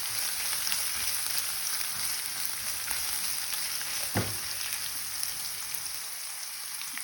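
A tablespoon of ginger garlic paste fries for a Kerala-style beef roast, giving a soft, even sizzle with a single sharp tap of a spoon midway, no one speaking.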